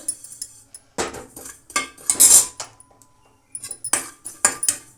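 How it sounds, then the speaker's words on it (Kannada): Poppy seeds dry-roasting in a pan for a sweet laddu are stirred with a metal utensil, giving irregular bursts of scraping and bright clinks against the pan between near-silent gaps, with no talk. "ಮೊದಲಿಗೆ ನಾವು ಗಸಗಸೆನ ಹುರ್ಕೊಳ್ಳೋಣ ಇವಾಗ"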